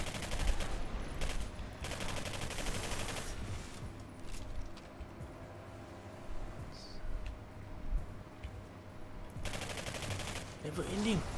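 Bursts of gunfire in the sci-fi shooter Singularity come in short volleys at the start and end, separated by a quieter stretch of ambient game noise, with some speech underneath.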